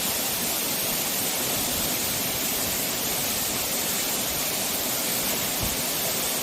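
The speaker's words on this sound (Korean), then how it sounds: "수천톤의 물이 절벽 아래로 곤두박질 치며 만들어내는 엄청난 에너지가 우리 가슴을 울립니다" Sullak waterfall in Gapyeong sends water crashing down a cliff, a loud, close, unbroken roar of falling water that holds steady throughout with no voices.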